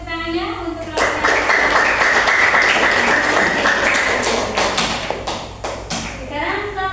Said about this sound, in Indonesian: beri tepuk tangannya untuk melakukan